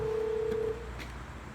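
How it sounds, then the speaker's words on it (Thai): A phone sounds a single steady electronic ring tone for an incoming call, lasting under a second, then cuts off to leave a background hum. "อ้าวสายเข้าครับ"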